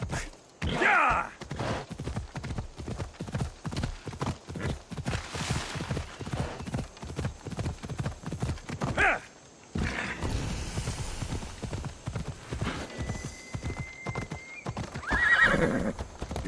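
A horse gallops with quick, steady clip-clop hoofbeats in the video game Assassin's Creed Odyssey, neighing loudly near the start and again near the end. There is a short pause in the middle, and a voice speaks briefly.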